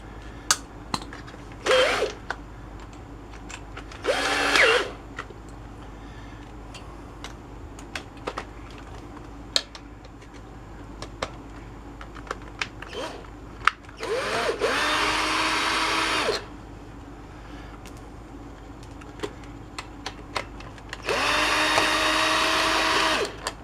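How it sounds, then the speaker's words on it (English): A cordless drill buzzes in short bursts while backing screws out of a Polaris Sportsman ATV's pull starter. Four separate whirs of a couple of seconds each are spread across scattered small clicks and handling taps, with no talk. "See if you can't buzz them out the rest of the way with a cordless drill."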